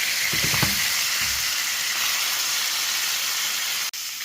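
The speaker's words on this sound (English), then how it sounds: "we're going to flip the pork chops" Pork chops sizzling loudly in a pan just after being flipped, a steady close hiss with a few brief clinks at the start and a short cut near the end.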